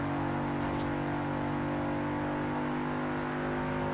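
A modified Audi RS6 in Forza Horizon 4 holds a loud, steady engine drone as the revs build, with a brief higher whine near the start and no talking.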